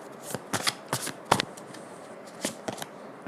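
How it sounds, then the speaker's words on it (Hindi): Tarot cards being shuffled by hand in quick, papery riffles and flutters, several separate bursts across a few seconds, close and fairly soft with no talking. "कार्ड्स को शफल कर लेते हैं."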